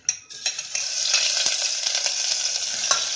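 Garlic-ginger paste sizzles steadily in leftover oil from frying arbi inside a pressure cooker, a loud continuous frying hiss with a few clicks from stirring.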